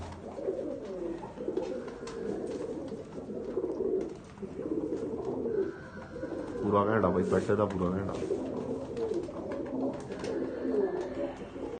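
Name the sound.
pigeons cooing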